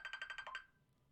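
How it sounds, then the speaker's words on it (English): A mobile phone ringtone chirps in a quick series of bright electronic pulses, faint and brief, cutting off after about half a second. "What is that? It's my phone."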